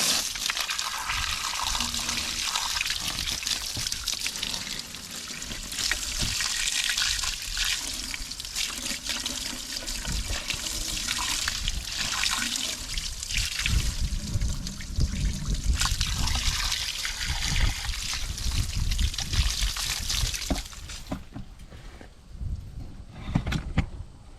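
Running water rinses grime and Super Clean degreaser off a part, a continuous close splashing and trickling stream that shifts in tone as the flow moves over the surface before cutting off near the end.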